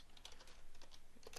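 Code is typed on a computer keyboard as a quick, quiet patter of keystrokes in close, rapid succession over a soft background hum.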